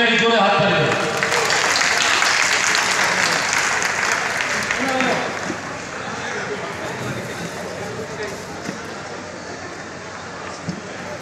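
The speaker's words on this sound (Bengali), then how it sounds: "সবাই মিলে জোরে হাত তালি।" A crowd at a Trinamool Congress blood donation event claps loudly and continuously, a dense wash of applause that eases slightly after the first few seconds.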